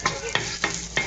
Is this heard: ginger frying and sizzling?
yes